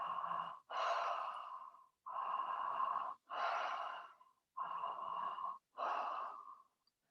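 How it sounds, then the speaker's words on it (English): Circular breathing through the mouth: six strong, close breaths in a steady rhythm, each inhale and exhale rushing loudly with only brief gaps between them. "The second pattern is inhaling and exhaling through the mouth."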